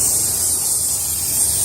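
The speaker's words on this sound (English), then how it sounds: "I'm spraying it in the lock." Aerosol can sprayed into a U-lock, a steady close hiss running unbroken for under two seconds with no talking.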